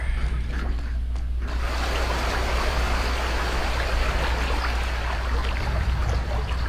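Steady flowing water in the video game Blood Omen 2, a broad rushing wash that runs unbroken throughout, loud and close, with no talking.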